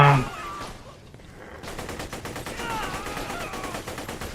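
Rifle fire in the video game Borderlands: The Pre-Sequel starts after a short lull and becomes a rapid, evenly spaced stream of automatic shots that keeps going steadily and fairly loud.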